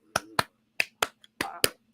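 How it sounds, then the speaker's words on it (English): A man does the rhythmic Clipper clap, six sharp, close hand claps in a quick irregular pattern, with a faint extra tap between them, alone with no talk. "Do the Clipper clap."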